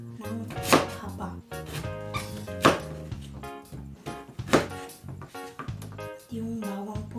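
A few sharp knife chops through potatoes on a cutting board, spaced irregularly, over background music.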